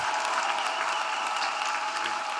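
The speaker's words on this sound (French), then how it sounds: "Let us clap for the Lord." A congregation at a church gathering claps steadily together, a bright, even wash of applause from a crowd that holds throughout without pause.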